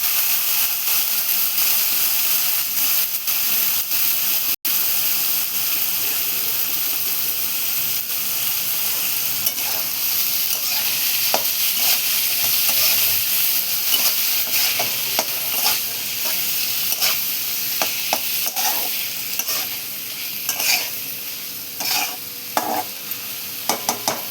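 French beans, freshly washed, frying with homemade masala in a pan for a coconut bhaji, giving a steady broadband sizzle throughout with frequent clicks and scraping stirs, loud and close with no voices.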